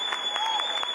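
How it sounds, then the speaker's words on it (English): Scattered applause from a live audience at a political conference event, a few separate bursts of claps over a steady hum, moderately close. "It was scattered applause, and I heard one whistle."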